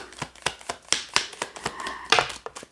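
Tarot cards are shuffled close up in a quick series of sharp riffling clicks and flutters that come in uneven bursts.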